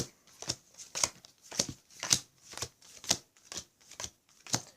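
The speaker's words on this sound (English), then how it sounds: "You deal out 5 cards to each player." Playing cards dealt one at a time for a game of In a Pickle, giving a steady run of about ten crisp, close snaps and slides with short gaps between them, and no talking.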